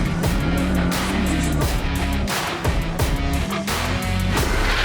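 A rally car drives a stage with its engine revving hard and the pitch rising and falling through gear changes, loud and close, and no one speaking.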